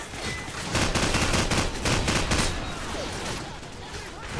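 Rapid M16 rifle fire in Call of Duty 4, a loud close burst of sharp repeated shots that thins out toward the end, with a voice briefly speaking underneath.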